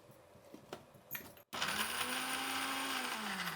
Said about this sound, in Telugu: తెల్లగడ్డలు వేసుకున్నాక ఎక్కువ మిక్సీకి పట్టద్దండి